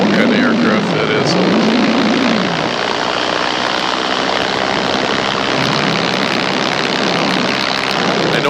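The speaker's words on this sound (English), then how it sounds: "I don't know what kind of aircraft that is." An unidentified aircraft passes overhead with a steady droning engine hum whose pitch wavers and rises and falls. It is heard under loud broadband wind noise, continuous and fairly strong throughout.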